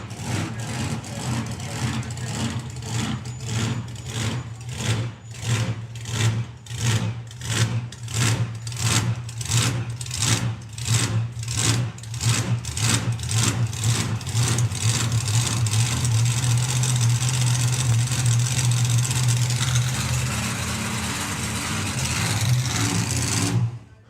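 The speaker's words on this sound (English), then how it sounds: "So Simon just had to cut the engine, maybe just a little bit of fluid on the track from Phil Drewitt's car in the Kestra lane." A drag racing car's engine runs loud and close at the track during a national drag racing event, with a rapid pulsing idle that builds into a steadier, louder roar before cutting off near the end; no talking.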